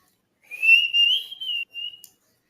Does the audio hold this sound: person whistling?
yes